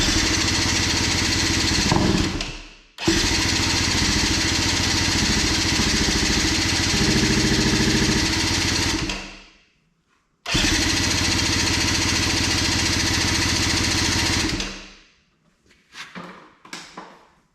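A 2003 Arctic Cat 90 youth ATV engine fires on carb cleaner, running loud and buzzy for several seconds before dying, restarting after a brief silence, cutting out again, then sputtering in short weak bursts.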